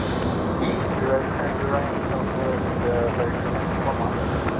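A Boeing 737 MAX airliner at Raleigh-Durham airport gives off a steady, broad engine roar that holds evenly throughout, with voices talking over it.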